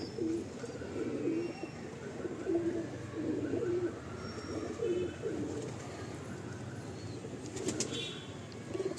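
A loft pigeon being handled and shown for sale gives soft, repeated coos, with a brief flutter of wings near the end; the sounds are close but fairly quiet and no one speaks.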